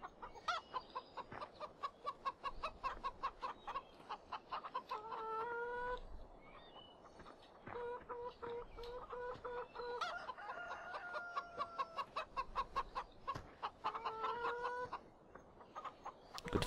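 Chickens cluck and a rooster crows repeatedly in Farming Simulator 2015, a busy farmyard flock with steady, rhythmic clucking and several crows, fairly close with no talk over it.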